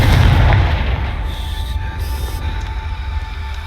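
A Confringo blasting curse detonates in Hogwarts Legacy, a loud, heavy boom with a rumbling burst that rolls off and decays over a few seconds, heard alone.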